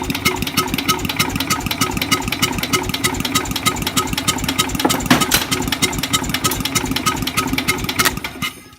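An engine is cranked over by its starter without starting, a steady fast churning rhythm that keeps going for several seconds, loud and close, with no one speaking.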